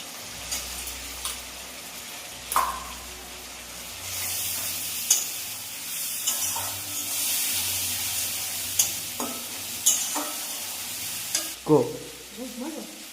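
Ginger paste, garlic paste and dried red chilli paste frying down for a prawn curry, a low crackling sizzle broken by repeated spoon scrapes and clinks against the pan, close by, with no voices.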